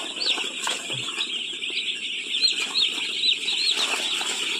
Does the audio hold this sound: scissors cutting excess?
no